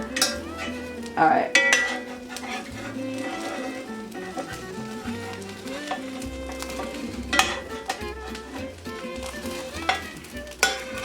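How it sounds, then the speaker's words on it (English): Two spatulas working a thin egg pancake in a large pan, with repeated scraping and clattering over a soft sizzle; a person speaks briefly. "I'm trying to use 2 spatulas because I know on here the egg is really thin"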